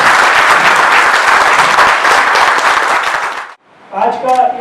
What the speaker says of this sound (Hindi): सर के स्वागत में एक बार सभी जोरदार तालियां बजाएंगे स्वागत के